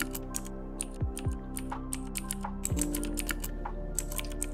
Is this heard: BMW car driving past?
no